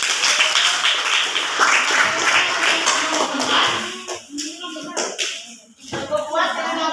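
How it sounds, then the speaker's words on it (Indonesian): A burst of clapping from a group of students, brisk at first then thinning into scattered claps, with voices heard amid it. "Oke, tepuk tangan."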